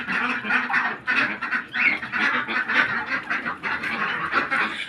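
A dense flock of birds calls continuously, many overlapping honking, quacking cries like ducks or geese forming a loud, close chorus throughout.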